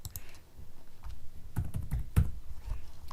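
A number is typed on a computer keyboard: a handful of close, distinct key clicks, with a couple of heavier strokes in the middle, over faint background noise.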